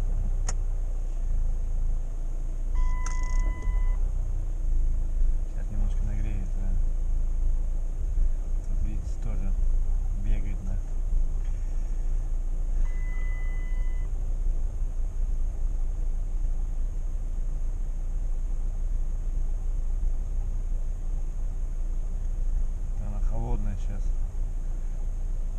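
Chrysler CRD diesel with an automatic transmission fault idles with a low rumble while being shifted into reverse, faint clicks and brief tones over the hum, someone talking throughout.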